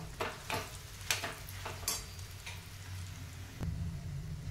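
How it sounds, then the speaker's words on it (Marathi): Spices and salt are mixed into dabeli filling in a pan, heard as fairly quiet scraping and tapping strokes at an irregular pace over a faint sizzle. "आता याला आपण छान मिक्स करून घेऊया"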